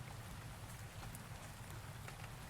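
Steady, heavy rain falls in the video game Rainswept, a dense, continuous hiss with faint scattered drops over it and no voices.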